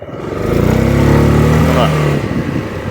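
An ADX TG400 scooter engine pulls away from low RPM, its mid-pitched drone rising steadily in pitch then easing off, heard close and loud while someone talks over it.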